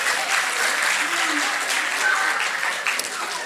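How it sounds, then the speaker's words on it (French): A hall audience applauds loudly, dense continuous clapping filling the space at an even, strong level, with a few voices faintly audible underneath. "qu'est-ce que ça donne quand on applaudit à fond?"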